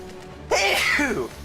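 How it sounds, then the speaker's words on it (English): A single sharp sneeze bursts out midway after a brief quiet moment, close and clear, ending in a short trailing breath. "I'm about to sneeze."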